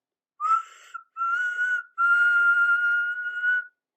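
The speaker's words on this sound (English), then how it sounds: "They all whistled." Clear, high whistling in three sustained phrases separated by short pauses, with no talking.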